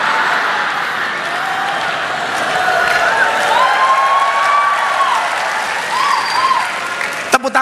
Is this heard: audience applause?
yes